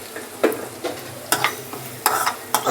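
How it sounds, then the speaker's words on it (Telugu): A spoon stirs an egg curry masala mixture in a hot pan, giving a handful of distinct scraping strokes over a soft background sizzle. "మిశ్రమాన్ని బాగా కలుపుకోవాలి."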